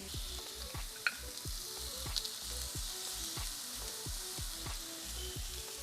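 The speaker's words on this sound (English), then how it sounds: "Gotta get the sizzle." Salmon fillets sizzling in olive oil in a hot cast iron pan, a steady frying hiss with a few sharp pops and small clinks, heard alone at a moderate level.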